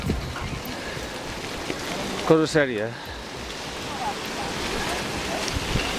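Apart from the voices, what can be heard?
strong wind blowing outdoors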